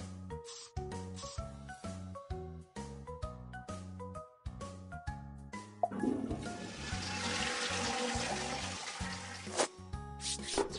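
A cartoonish toilet flush in a kids' baby-care bath-time game rushes for several seconds over bouncy, plinking game music.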